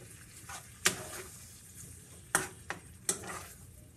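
A metal spoon stirring chicken broth and sour cream in a cooking pan, with a few sharp clinks against the side over a soft, steady sizzling background.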